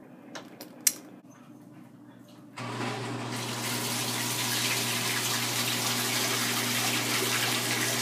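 A Kenmore KLA7924FQ0 washing machine, running empty, starts filling after a few quiet seconds with faint clicks, then a loud, steady gush of water pours in continuously to the end.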